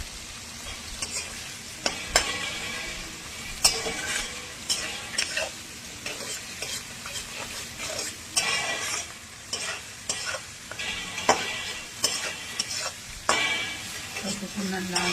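Sliced onions fry in hot oil in a pan while being stirred and turned, with a continuous sizzle broken by repeated scraping and clinking of the spatula against the pan.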